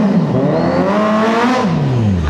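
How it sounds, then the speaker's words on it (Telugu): A Kawasaki Z900 inline-four motorcycle fitted with an Austin Racing full exhaust system revs hard, its loud, close engine note sweeping up and then falling back within a couple of seconds. "Z900 full system Austin racing"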